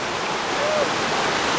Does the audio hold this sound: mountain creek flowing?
yes